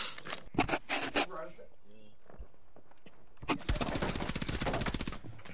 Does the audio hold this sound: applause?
no